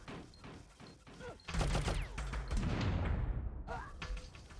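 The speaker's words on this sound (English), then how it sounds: "we're using grenades here because it is much more efficient" Grenade explosions in Oddworld: Abe's Exoddus, a loud burst of booming blasts and debris rumble that swells and lingers for a few seconds after quieter game sounds.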